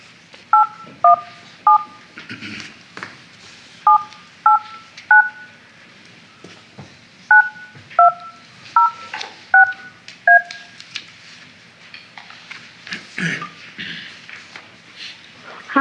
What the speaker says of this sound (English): Next, I'm going to call Cassandra Dobbs